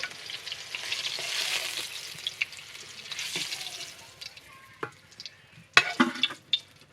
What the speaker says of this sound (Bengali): হালকা একটু তেলে ভেজে নিলেই হয়ে যাবে